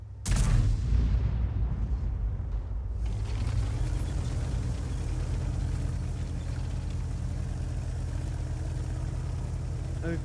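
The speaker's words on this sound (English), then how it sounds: "there's the enemy Arty shot" Enemy artillery fires in a tank video game, one loud sudden boom at the start with a sharp crack, followed by a long rumbling engine-like drone that carries on to the end.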